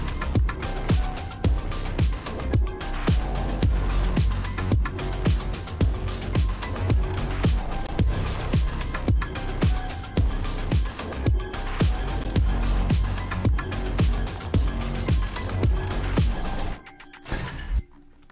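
A loud, dense electronic instrumental from a self-made Aooni song plays with driving, steady beats throughout, then drops out abruptly near the end.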